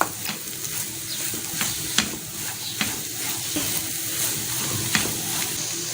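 Chicken kachori stuffing with green chili and spices being stirred in a hot pan: constant close sizzling, with rhythmic scrapes and knocks from the spoon roughly every second and no speech.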